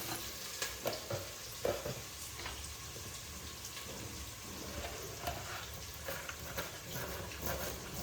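A pan sizzles steadily while chicken biryani ingredients fry, with intermittent clinks and scrapes of stirring and occasional sharper knocks, fairly quiet and without talking.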